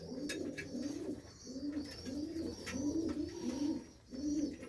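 A continuous chorus of low, throaty coos from male pigeons repeats in rhythmic rolls, with occasional soft clicks and rustling nearby.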